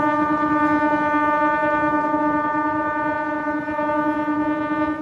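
On board a Kakinada Port to Visakhapatnam MEMU express rolling past Annavaram station, a loud, sustained tonal drone with a horn-like pitch holds steady for the whole stretch over a rumbling background.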